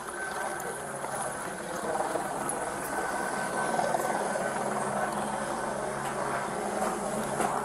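A police helicopter tracking a fleeing suspect drones steadily overhead, a continuous rotor whine and thrum that holds at a moderate distance throughout.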